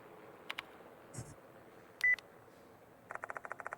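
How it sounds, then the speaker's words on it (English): In the Death Mark 2 video game, a phone vibrates as a sound effect in a room. A few scattered electronic blips come first, then a quick run of rhythmic buzzing pulses closes the passage. "The sound of a phone vibrating echoes in the room."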